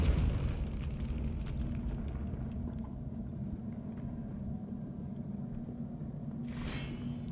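A Confringo fire spell blast in Hogwarts Legacy, a deep sustained rumbling roar that swells at the start, holds steady, and ends with a brighter hiss.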